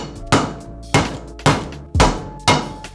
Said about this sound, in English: We're going to throw a little punch peen in these screws just to make sure that they don't pop out ever.